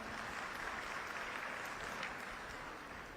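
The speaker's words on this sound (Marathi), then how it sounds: "एकदा तुमच्यासाठी टाळ्या वाजवा स्वतःसाठी." Audience applause filling a packed meeting hall, a dense, even wash of clapping heard from some distance that holds steady for a few seconds before easing slightly.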